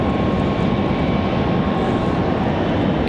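An airliner departs Raleigh Durham airport under a low cloud ceiling, its engines a loud, steady broadband roar with no talk.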